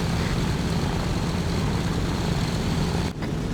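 A propeller aircraft engine drones loudly and steadily in flight, identified as an AC-130 on an air raid over Tobruk, a dense, unbroken roar with a brief dip near the end.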